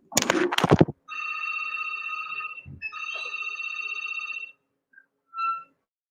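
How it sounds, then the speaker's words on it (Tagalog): A telephone rings with an incoming call during an online teaching session, sounding in repeated long electronic trills with brief gaps after a burst of speech at the start. "Pasensya po at may tumatawag, saglit lang."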